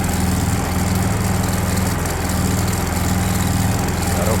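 A Honda EU3000 inverter generator, just fitted with a new carburetor, runs with a steady, loud, even drone and no change in speed.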